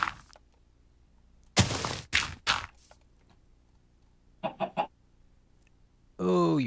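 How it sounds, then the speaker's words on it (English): Chickens in Minecraft cluck in short bursts, a quick run of three close clucks followed later by another trio, then a longer squawk at the end, with quiet gaps between. "I have so many chickens all over the place"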